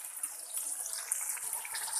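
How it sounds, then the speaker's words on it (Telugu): Ginger garlic paste and coriander powder fry in hot oil, giving a steady, close, high hiss with small crackles throughout; no one speaks. "కొద్దిగా అల్లం వెల్లుల్లి పేస్ట్ వేసి బాగా ఫ్రై చేయండి."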